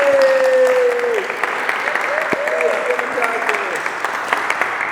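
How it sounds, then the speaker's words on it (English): Audience applause fills the room after a live performance by a duo: a dense, steady wash of clapping lasting the whole stretch, with a voice briefly heard over it at the start. "Let's just give them another round of applause."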